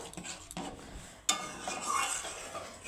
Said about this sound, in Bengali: 1 চামচের মতো আমি ঘি দিয়ে দিয়েছি। একটু আমি নেড়ে নেব।